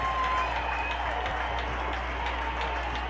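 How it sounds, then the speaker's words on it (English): Soccer stadium crowd at a Detroit City FC match cheering and applauding around a penalty kick, a steady dense wash of clapping and roaring voices throughout. "Nate Steinwasser, the crowd's on its feet here at Keyworth"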